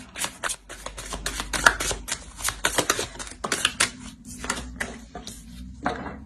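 Oracle cards for a tarot reading are shuffled by hand in quick papery riffles and flutters, a dense rhythmic run of soft slaps and ruffles close up with brief pauses between bursts.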